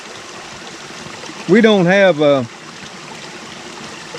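A woodland stream flows with a steady, close rushing of water throughout, while someone talks briefly over it midway.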